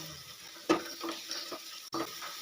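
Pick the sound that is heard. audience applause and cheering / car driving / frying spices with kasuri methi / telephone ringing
frying spices with kasuri methi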